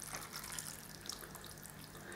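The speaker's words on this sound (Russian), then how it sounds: "Теперь я заливаю это водой." About 300 ml of water is poured over sorted prunes in a pot while preparing an Icelandic Vinarterta cake, making a faint, steady splashing trickle. No one speaks.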